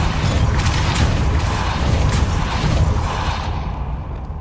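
Depulso spell cast in Hogwarts Legacy, a loud, forceful whooshing blast over dense rumbling game ambience that holds steady for several seconds before thinning out at the end.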